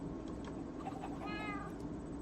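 Cat giving a single short meow over a constant background hum, faint and close, with no talk.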